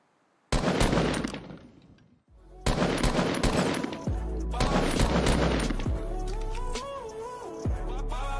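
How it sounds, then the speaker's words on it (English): Gunfire in Fortnite: bursts of rapid shots in loud clusters separated by brief gaps, with game sound effects and a rising electronic tone near the end. "Where's this guy shooting me from?"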